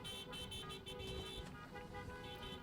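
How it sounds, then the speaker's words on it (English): Car horns toot repeatedly through a steady roar of vehicles and crowd noise at a high school senior car parade, with overlapping honks and continuous loud background bustle. "We hear a lot of honking out here today"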